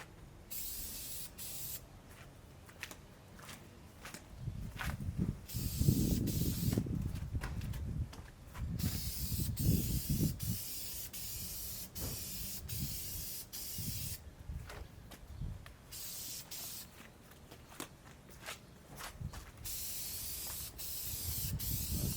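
Aerosol paint sprayed in light coats onto a Weber Q grill, a run of short and longer hissing bursts with brief pauses between, close and fairly quiet, with faint handling noise underneath.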